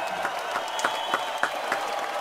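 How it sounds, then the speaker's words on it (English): A small group claps for a couple of seconds, steady patter with a few sharper claps, fairly close. "Everybody give me a round of applause"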